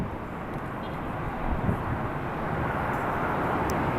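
A Korean Air Airbus A380 departing LAX produces a broad, steady jet roar that swells slightly partway through and holds loud without voices.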